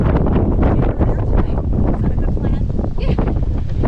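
Strong wind buffets the microphone in a loud, constant roar with gusty surges on the windward shore of Norman Island, aboard a sailboat at anchor, with a voice faintly mixed in.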